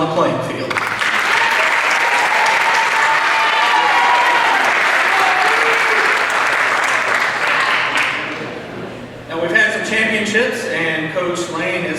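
Sustained applause from a large audience at a high school Raiders awards night, loud and steady for about eight seconds, then fading as music comes in over the final seconds.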